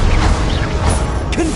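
Expelliarmus disarming spell cast in Hogwarts Legacy: a loud burst of magical whooshes and mechanical clanks with a sharp crash, ending in a quick rising swish.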